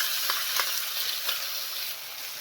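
Garlic, chilies, sesame seeds and asafoetida fry in a pan, giving a steady, close hiss of sizzling oil with a few soft stirring clicks and no talk.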